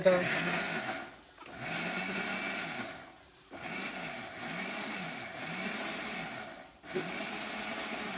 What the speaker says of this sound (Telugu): ఉల్లిగడ్డలు టమాటకాయలు కూడా ఇది మిక్సీ పని ఏమో